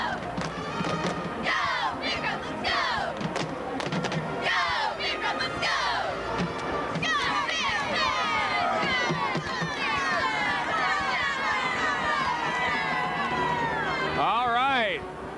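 High school cheerleaders lead a loud chanted cheer amid a dense, roaring basketball crowd, voices shouting together in rhythmic bursts over constant crowd noise, with a sharp whistle-like rising cry near the end.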